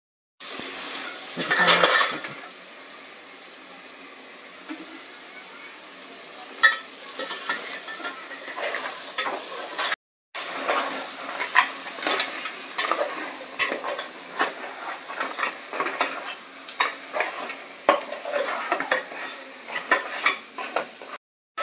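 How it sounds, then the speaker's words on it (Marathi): Crabs sizzle and fry in a spicy masala in a pan while being stirred, with steady hissing, scraping and clinking of a utensil against the metal, close and fairly loud, with no talking. "मी आता याच्यात खेकडे सोडत आहे, ते परतून घेऊयात मसाल्यांमध्ये."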